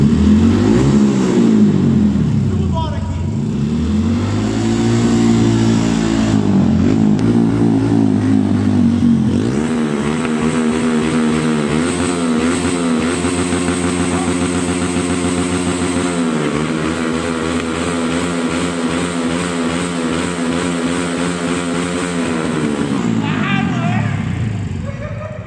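Honda POP 110i motorcycle bored out to 120i, its engine revved hard and held high with a steady buzzing drone and rising pitch, loud and close for the whole stretch, with voices heard over it.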